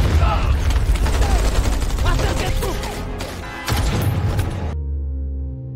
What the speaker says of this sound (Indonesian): lagi-lagi Tan terkena timah panas dari Joseph